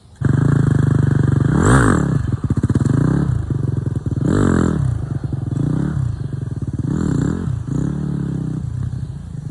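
A 250 dirt bike engine revs hard in repeated surging bursts during wheelie attempts, rising and falling loudly up close with steady engine drone between pulls.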